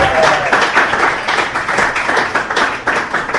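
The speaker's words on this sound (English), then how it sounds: "Round of applause for our volunteers" A crowd at a beer-tasting gathering gives its volunteers a round of applause: brisk, loud clapping that swells and dips in quick waves for a few seconds, with some voices mixed in.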